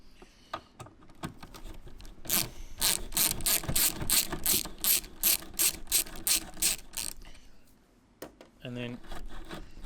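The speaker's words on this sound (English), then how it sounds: "Now to remove this, you're going to need a Torx, which is a T30." A ratchet fitted with a Torx T30 bit loosens the two screws holding an Audi TT wing mirror, giving a long run of rapid, evenly spaced clicks with brief pauses. A short metallic clink follows near the end.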